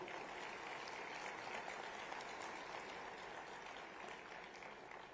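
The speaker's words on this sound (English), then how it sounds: "I don't think this applause was justifying the wow word." An audience at a Gujarat semiconductor conference applauds, a faint, distant, continuous patter of many hands clapping heard through a hall for several seconds.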